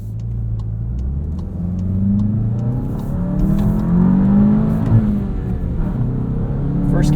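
A 2022 Volkswagen Jetta GLI with a 6-speed manual accelerates in first gear, the engine note rising steadily in a smooth, droning rev heard from inside the cabin.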